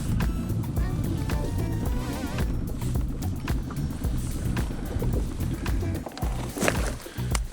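A boat tows an artificial loon nesting platform across the water, a low steady engine drone with wind buffeting the microphone and splashing water throughout.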